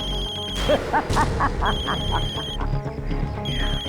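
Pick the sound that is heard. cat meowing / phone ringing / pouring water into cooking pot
phone ringing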